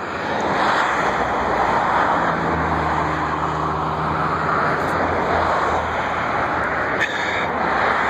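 A Southwest airliner takes off at BWI airport, its jet engines producing a loud, steady roar that fills the whole stretch with a deep rumble underneath.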